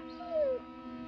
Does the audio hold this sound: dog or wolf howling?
yes